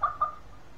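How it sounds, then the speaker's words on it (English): A chicken sound effect plays as test audio: two short clucks in quick succession, fairly quiet, alone with no talk. "It's a sound of a chicken."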